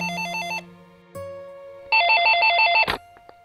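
A telephone rings with an electronic ringtone in a Bhojpuri film scene: a bright warbling tone, a pause with a steadier tone, then a louder burst of the warbling ring that cuts off abruptly, with no voices.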